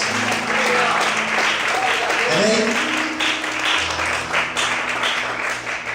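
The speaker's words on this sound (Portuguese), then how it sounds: "Você pode aplaudir bem forte ao Senhor?" A church congregation claps loudly during a service, with voices calling out over the applause and a brief sung or spoken phrase near the middle.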